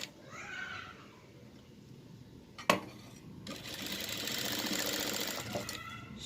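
A sewing machine stitches around all sides of a piece of fabric, a steady close hum that gets louder after a sharp click, with background voices and children's sounds underneath.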